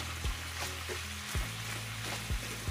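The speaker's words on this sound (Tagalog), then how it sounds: "makita nyo guys na lumabas-labas na yung kanyang mantika, sariling mantika" Chicken pieces frying in their own rendered fat for adobo, a steady crackling sizzle with a few louder pops and scrapes of stirring, close and alone with no talk.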